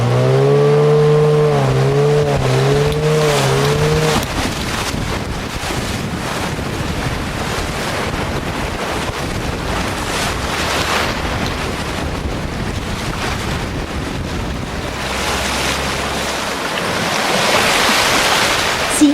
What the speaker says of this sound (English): Let's take you on a ride down the Andira Rapids.